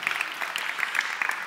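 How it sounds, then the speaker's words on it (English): A small indoor audience claps together, a dense patter of hand claps that holds steady at moderate loudness for a short burst without a break. "give him a round of applause"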